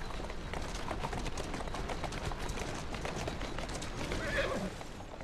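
Horse in the video game Assassin's Creed Syndicate clip-clops steadily at a run while a whinny rises near the end, all faint and continuous against game noise.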